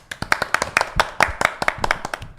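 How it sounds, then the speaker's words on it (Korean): Church audience applause during a Saturday talk show gathering, a sparse group of close, sharp hand claps in an irregular patter, no speech. "감사의 박수입니다. 감사의 박수."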